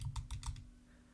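Rapid button presses on an Xbox One controller while playing the American Dad game, alternating the emote and jump buttons: four quick, close clicks in fast succession, then quiet, with no talking.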